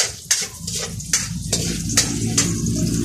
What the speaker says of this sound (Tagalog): Igigisa niyo ho yan. Unahin ho natin ang sibuyas.